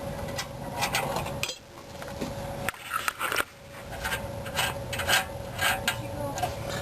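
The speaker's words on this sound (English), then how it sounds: "And now take the nut off." Wheel nut being worked off the brake rotor hub of a Ford F-150 pickup, a close metallic ratcheting and grinding with a brief pause midway, continuing in uneven bursts.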